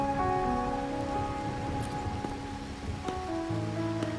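Steady rainfall in the video game Wuthering Waves, a soft continuous patter under sustained musical tones and faint chimes, without speech.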